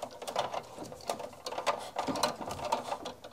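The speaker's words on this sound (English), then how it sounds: "Stripping all the cables and pulling off the sheathing." Copper electrical cables being stripped and their plastic sheathing pulled off while wiring a consumer unit. The result is a steady run of close, dense scraping and snipping clicks with no talk.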